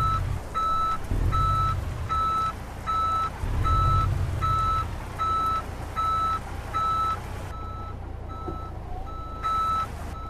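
A Freightliner Coronado in Euro Truck Simulator 2 sounds a steady, evenly spaced reversing beep as it backs up, loud and repeating over a deep rumbling diesel engine, with no talking.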